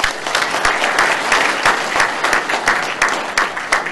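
An audience at a special lecture event in a plaza claps together, dense steady applause from a crowd filling the whole stretch without pause.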